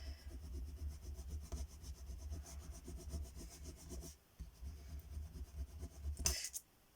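A decal transfer is scraped onto a surface in quick, rhythmic back-and-forth strokes, close and fairly quiet, with a brief pause and a sharper scrape near the end.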